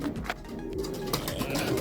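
A racing pigeon hen coos low and muffled amid steady background noise, with brief soft chirps scattered through.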